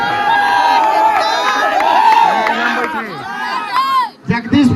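Crowd at a village dance competition in Odisha cheering and shouting in a steady, loud wash of voices with whistles, calling and speech mixed in throughout, dipping briefly near the end.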